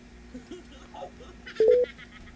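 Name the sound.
phone call being dialed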